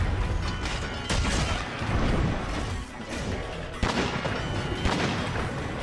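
Gun Lance shells blasting in the video game Monster Hunter: loud, dense bursts of explosive booms and mechanical clanks, with sharp hits near 1 s and 3.8 s over a continuous roar of battle noise.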